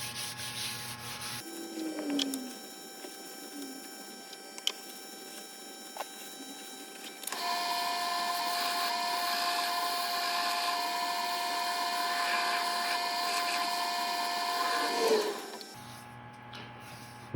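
A wood finish is buffed onto a spinning segmented turning of ebony, oak and sapele on a lathe. It makes a steady rubbing hiss over the motor's hum, louder through the middle stretch, with no one talking.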